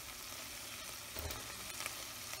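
Shrimp fry in a pan with turmeric and salt, giving a continuous close, even sizzle that swells briefly midway as they settle into the hot oil.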